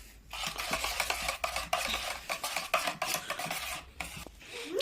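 A spoon mixes chopped coriander leaves into a beaten egg mixture for masala French toast, giving repeated quiet scraping and clinking strokes against the bowl in an uneven rhythm, with no talk.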